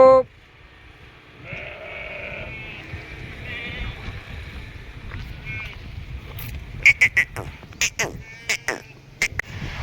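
Goats let loose bleat in a few faint, wavering calls over outdoor background noise, followed by a run of sharp clicks and knocks near the end.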